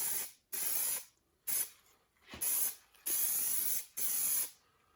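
Spray gun laying a gray coat onto a 1968 Mustang body, heard as six short, sharp hissing bursts of about half a second to a second each, separated by brief silences, close and fairly loud with no talking.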